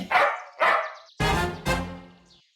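A cartoon dog, harnessed to pull a small cart in an Indian comic animation, gives four loud, close barks in two pairs, with short pauses between them.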